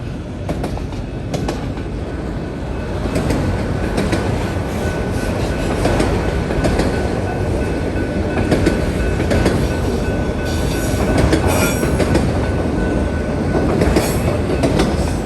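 A freight train of empty auto rack cars rolls southbound close by, a loud, unbroken rumble and rattle with clattering wheels and the occasional squeal, and no one speaks.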